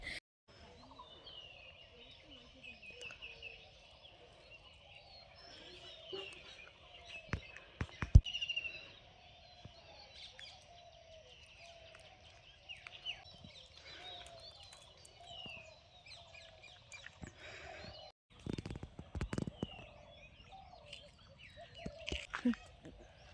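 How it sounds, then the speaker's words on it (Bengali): Birds chirp and call beside a bamboo grove, thin high calls repeating at a modest distance, mostly under a person talking nearby, with a few sharp handling knocks. "আমার আশেপাশে যে পাখি ডাকছে খুব সুন্দর লাগছে আওয়াজটা"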